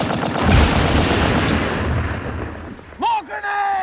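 Rapid machine gun fire in a trench battle, dense crackling bursts with booming low impacts for about three seconds, followed by a sudden break as shouting voices rise at the end.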